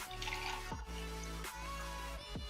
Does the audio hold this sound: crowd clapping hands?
no